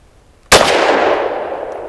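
A single sharp gunshot from a Lone Wolf Arms Dusk 19 pistol firing a Liberty Civil Trainer lead-free 65-grain load, loud and close, with a long ringing decay trailing off after the crack.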